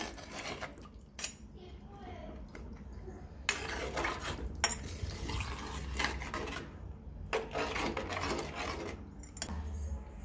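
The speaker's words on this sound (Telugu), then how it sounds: "బాగా మిక్స్ చేయాలి, కలపాలి." A fish and raw mango curry is stirred in a pot with a metal spoon, giving intermittent scraping and clinking bursts between quiet gaps, close and fairly soft.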